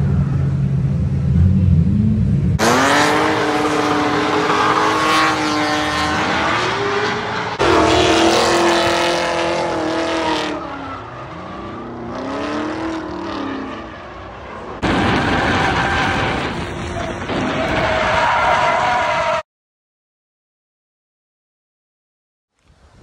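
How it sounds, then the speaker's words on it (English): Straight-piped Pontiac G8 GT drift car with Brembo brakes, its engine revving hard in rising and falling sweeps with crackling pops across several bursts, loud and close, then cutting to silence near the end. "We are in the drift car."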